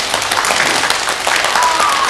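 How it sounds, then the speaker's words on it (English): Children at a school drum-circle session clap their hands together fast, producing a dense, loud wash of rapid claps that fills the whole moment without pause. "And clap them together really fast"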